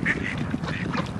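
Ducks quack outdoors at night under a full moon, a brief burst of a few nasal calls at moderate distance with no talk.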